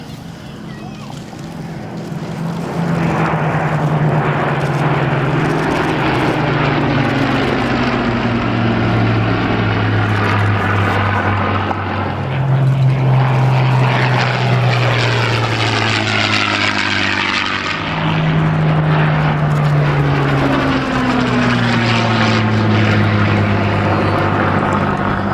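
A Hawker Hurricane WWII fighter flies past with a loud, steady piston-engine roar whose pitch rises and falls as it passes, repeated in sweeping waves over about 25 seconds.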